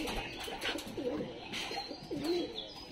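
Native pigeons coo close by, several soft, throaty rolling calls repeating in a loose rhythm over a steady background hum, with no one speaking.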